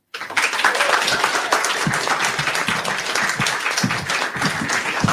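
A seated audience at a schools poetry contest breaks into dense, sustained applause after a reading, with many hands clapping close together at a steady level from start to finish.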